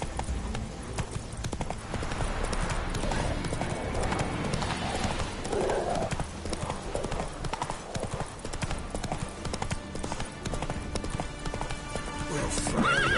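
A horse in the video game The Witcher 3 gallops with loud, rapid clip-clop hoofbeats and lets out a neigh, steady and close throughout.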